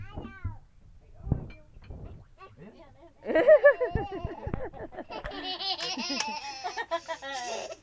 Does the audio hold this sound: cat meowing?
yes